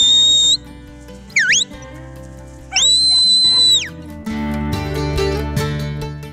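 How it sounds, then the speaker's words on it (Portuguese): Sharp, loud whistle commands used to direct a herding border collie at long distance: a steady two-tone blast, a quick rising chirp, and a long held tone that slides down, alone over a low humming background. "por fim, comandos de apito."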